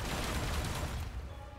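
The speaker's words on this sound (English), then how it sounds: "Are you... seriously shooting at citizens, you idiots?" Dense gunfire from Sable agents in the Spider-Man Remastered video game, a steady loud burst of overlapping shots that eases slightly toward the end, with no talking.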